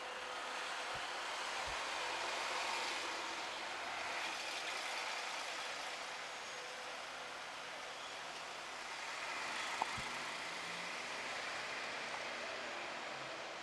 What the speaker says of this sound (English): This lady is being pursued by a bus.